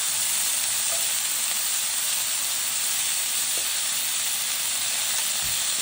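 Brussels sprouts sizzling in a hot pan as they are tossed, a steady loud frying hiss throughout with faint scrapes and a soft thump near the end.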